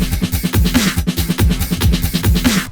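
A steady, punchy drum loop with kick and snare hits repeating in a tight, even groove, alone without any voices.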